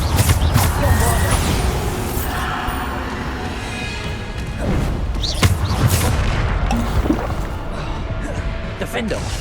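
Bombarda explosion spells in Hogwarts Legacy go off as several loud, booming blasts and crashes spread across the stretch, with a voice speaking between them.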